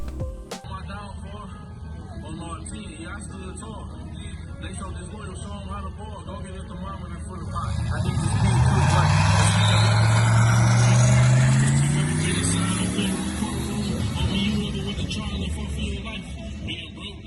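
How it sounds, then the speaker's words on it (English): A turbocharged drag race car on its first pass at the track, running 5 pounds of wastegate boost, roars up loudly from about eight seconds and holds a strong rising engine note before easing off, over a steady background of crowd chatter. "Our first pass with the car, we ran on wastegate pressure, 5 pounds of boost."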